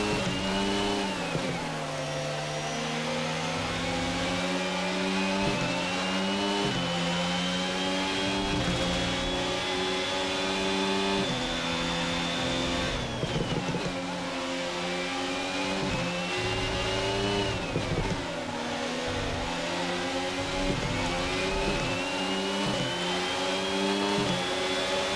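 Formula 1 car engine in a racing video game during an overtaking attempt on two Ferraris, a loud continuous high-revving whine rising and falling through gear changes for the whole stretch, with no voices.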